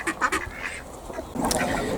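Ducks kept alongside chickens in a backyard smallholding quack repeatedly, several birds calling close by in short bursts over a steady outdoor background.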